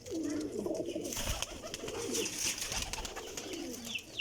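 Pigeons cooing nearby, soft repeated throaty coos overlapping with some rustling and flutter in the background.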